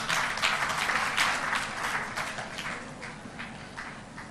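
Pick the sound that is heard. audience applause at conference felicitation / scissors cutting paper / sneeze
audience applause at conference felicitation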